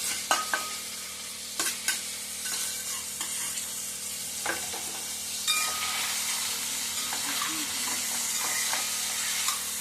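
Ridge gourd pieces, tomatoes and green chilies sizzle and hiss in hot oil in a South Indian village kitchen, with a spoon scraping and stirring the pan at intervals.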